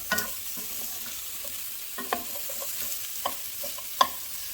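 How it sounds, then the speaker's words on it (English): Onions sizzle steadily in a pan, with a spoon tossing and breaking them up in occasional sharp clicks and scrapes, close by and without talk. "I'm going to go ahead and add the onions. Okay, the onions are in. I'm going to give all of this a toss."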